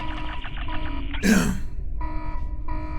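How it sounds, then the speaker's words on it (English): An alarm blares in the video game The Operative: No One Lives Forever, repeating loud electronic beeping tones in pulsed bursts, briefly interrupted by a sharp burst of noise and a voice before resuming. "I like how we can't turn this alarm off now."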